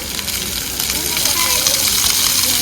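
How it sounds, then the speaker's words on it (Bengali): Water falls and splashes in a steady, broad rushing hiss at an outdoor spot, fairly close and loud, with a voice speaking over it. "জল পড়ছে।"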